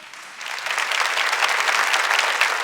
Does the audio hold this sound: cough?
no